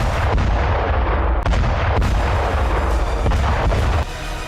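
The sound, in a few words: rocket attack, artillery fire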